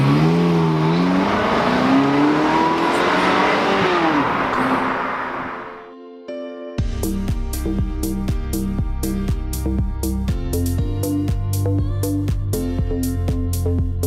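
Ferrari 360 Modena engine revving loudly with rising pitch, cutting off briefly before a steady rhythmic pulse takes over for the rest, tested on roads in Picardie.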